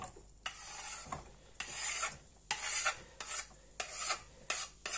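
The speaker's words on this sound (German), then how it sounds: "So, wenn das Öl warm ist, tun wir die Zwiebelchen rein." Chopped onions stirred in warm oil in a pan, heard as repeated rasping scrapes of a utensil in rhythmic strokes, close and fairly loud, with no talking.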